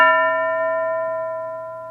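A single school bell strikes once and rings on with a clear, steady tone that slowly fades, heard alone in a quiet classroom.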